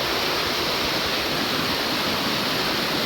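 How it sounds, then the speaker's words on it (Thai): A waterfall cascade running with low flow gives off a steady, loud, close rush of splashing water, continuous and unvarying without any talk. "ตาดที่น้ำไหลแห้งสุด"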